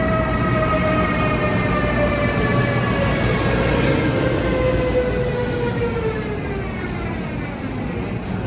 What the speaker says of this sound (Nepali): फाइनली हाम्रो डेस्टिनेसनमा जाने ट्रेन चाहिँ आइसकेको छ देख्न सक्नुहुन्छ